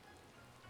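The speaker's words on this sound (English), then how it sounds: "I kind of wish it wasn't raining." Steady rain in the game Final Fantasy XIV, falling on surfaces as a soft, continuous wash of patter at low level, heard alone without any voices.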